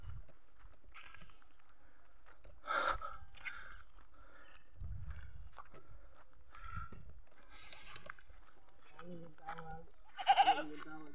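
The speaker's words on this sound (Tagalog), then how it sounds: "May kambing." A goat bleats on a hillside overlooking Buena Vista with Mount Arayat nearby, a few short wavering calls at moderate distance, scattered among people talking and outdoor background noise.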